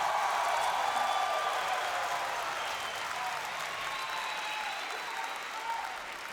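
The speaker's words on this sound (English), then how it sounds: "Folks in the crowd, give it up if you're a fan of Optic Gaming." A crowd at an esports event applauds and cheers for Optic Gaming, a broad, steady roar of clapping and crowd noise, somewhat distant and moderately loud, tapering slightly toward the end with faint tonal sounds above it.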